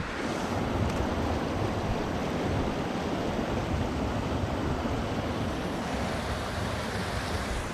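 River water rushes in a steady, dense roar beneath a footbridge near a bothy in Knoydart during harsh weather, loud and continuous, with gusty wind mixed in and no voices.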